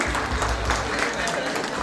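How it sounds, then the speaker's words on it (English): An audience at an ISKCON chariot festival claps in a dense, sustained burst of applause, close and fairly loud throughout. "A big round of applause to every Mataji who have prepared and put together."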